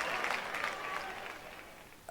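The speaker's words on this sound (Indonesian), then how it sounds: "Tepuk tangannya dong" Applause from an audience at an Indonesian award announcement, a steady wash of many hands clapping that fades slowly over two seconds, heard alone without talk.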